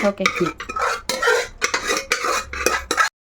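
A spoon stirs semiya payasam with sago in a pot on a switched-off stove, giving close, rhythmic scraping and clinking bursts against the metal for about three seconds.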